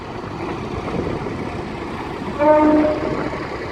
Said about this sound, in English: that's what a DBSO horn sounds like then